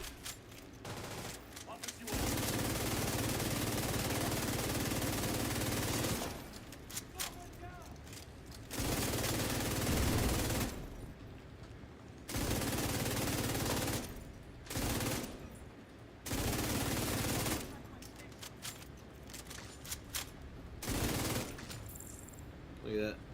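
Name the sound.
gunfire from shooting enemies in a video game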